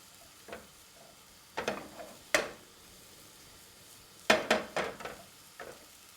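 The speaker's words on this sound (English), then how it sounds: "They are sizzling." Peaches laid into melting, caramelizing sugar in a hot pan sizzle in a few short bursts and stirring clatters, fairly close with quiet gaps between.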